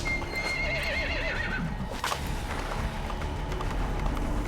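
A horse whinnies with a wavering, rising-and-falling call, followed by hoofbeats and a dull thump amid a steady background, from the video game Metal Gear Solid V: The Phantom Pain.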